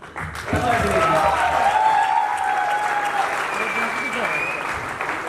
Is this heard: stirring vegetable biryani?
no